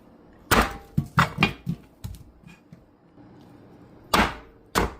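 Onion being chopped on a board, heard as a series of crisp, irregular knife taps, some clustered and others spaced apart with short pauses, close and clear with no talking.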